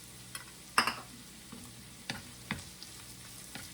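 Red onion frying in a pan, a soft low sizzle broken by a few sharp clinks and scrapes of stirring, the loudest burst near the start and smaller ones following, with no voices.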